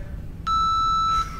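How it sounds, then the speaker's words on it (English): An interval timer beeps during a strength workout class, giving one loud, steady electronic tone that holds for nearly a second over a quiet background. "there's our timer"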